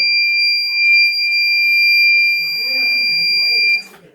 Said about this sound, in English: we would receive a buzzer sound